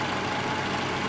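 A 2.5-liter straight-four engine in a 2010 Toyota RAV4 Limited runs steadily, a continuous broadband hum with a low rumble, loud and alone for about a second.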